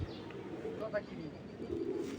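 Pigeons coo softly at a pigeon keeper's loft, a few faint low murmuring notes over quiet background noise.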